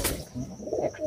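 Pet pigeons, including Teddy and Azan Bid breeds, coo softly nearby in a few short, throaty notes.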